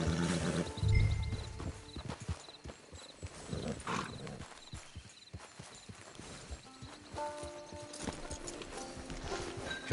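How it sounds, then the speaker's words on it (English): Horse hooves clip-clop steadily in a PS5 video game, a brisk close walking rhythm with a brief whinny near the start, joined by bells and ambient game sounds toward the end. "It's your horse."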